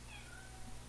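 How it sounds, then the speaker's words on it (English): Domestic cat meowing softly, a single faint, drawn-out meow over a steady background hum, with no one speaking. "I got a kitty over here and she's exploring and making some noises"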